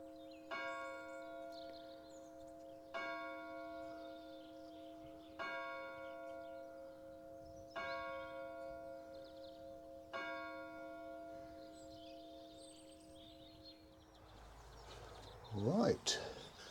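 A single church tower bell at Horton in Dorset tolls seven times in a slow, steady rhythm, each strike ringing out and decaying over a quiet outdoor background, followed by brief close rustling.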